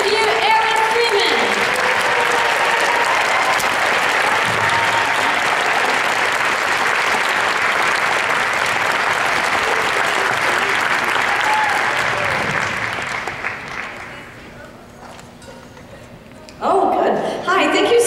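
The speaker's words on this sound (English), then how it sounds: "let's give her a round of applause" Symphony concert audience applauding the conductor: sustained dense clapping from a large crowd for about thirteen seconds, then fading to quiet murmur before a voice speaks over a renewed burst.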